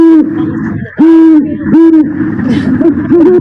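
A male great horned owl gives a loud, close territorial call: a run of deep, resonant hoots in a steady series, each one swelling and dropping, with no talking over it.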